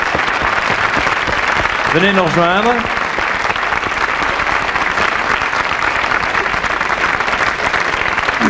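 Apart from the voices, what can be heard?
studio audience applause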